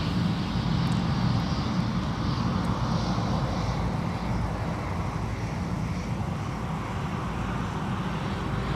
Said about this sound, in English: Don't get 777s in here that often, do we?